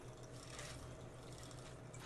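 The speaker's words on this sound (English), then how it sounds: "You just pour both of them over ice." Vodka and Frangelico poured over ice in a glass, a steady close liquid stream lasting a couple of seconds with no talking.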